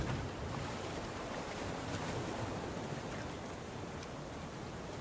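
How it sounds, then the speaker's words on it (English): Ocean waves in BitCraft Online form a dense, steady wash of surf and wind that stays even throughout, with no distinct thunderclap standing out and no voices. "Just the sound of the waves and the thunder."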